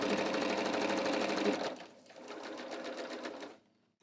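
A sewing machine stitches a pant inseam in a close, steady mechanical hum that dips briefly near the middle, picks up again and stops before the end.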